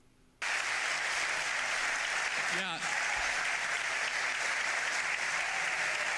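Studio audience breaks into sustained applause, a steady dense wash of clapping that starts abruptly and stays loud, with a brief voice cutting through midway.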